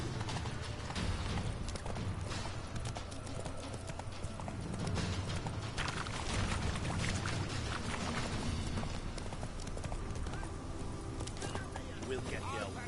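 Horse hooves clip-clop steadily throughout a Witcher 3 video game scene, with continuous talking over the top.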